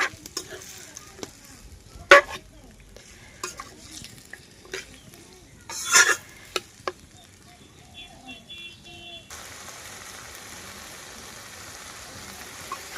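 Chicken pieces frying with spices in a pan for a village-style chicken curry, with soft steady sizzling and scattered sharp scrapes and knocks of stirring, fairly close by.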